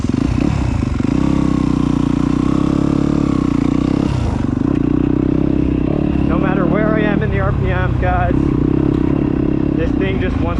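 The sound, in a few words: Yamaha YZ250F dirt bike engine intake noise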